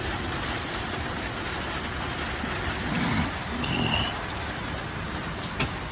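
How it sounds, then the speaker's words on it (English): Light rain falling in Wonder Valley, California, a soft, steady patter of drops on surfaces, faint and even throughout with a couple of brief louder rustles. "Little rain, collecting rain."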